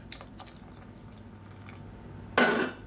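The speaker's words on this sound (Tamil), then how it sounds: "இன்னும் கொஞ்சம் தண்ணி சேர்த்துக்கலாம்." Water being poured into a thick soy-and-egg curry in a home kitchen, a short splashing pour after a few faint drips, close and alone.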